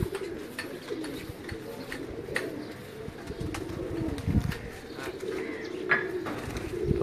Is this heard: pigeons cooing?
yes